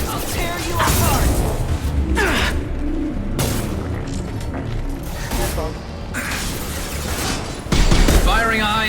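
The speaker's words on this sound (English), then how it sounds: "Firing a high-impact shot!" Heavy gunfire and booms from combat in the Mass Effect 2 Legendary Edition video game. Repeated loud shots and impacts come in bursts, mixed with mechanical effects and game voices.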